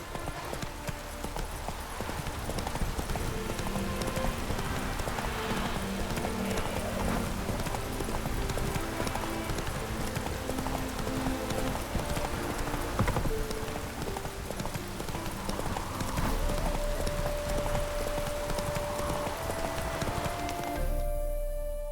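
Roach, a horse in The Witcher 3, gallops in rapid rhythmic hoofbeats that continue steadily throughout, over background game music, with brief talking.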